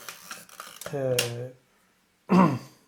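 A Hasselblad Planar 80mm f/2.8 lens with a sticky shutter snaps shut as its small arm is moved: one short, crisp mechanical click after a pause, following a stretch of talking.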